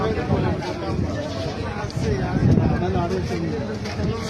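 Goats bleat repeatedly amid a busy livestock market in Oman, mixed with crowd babble and people talking nearby.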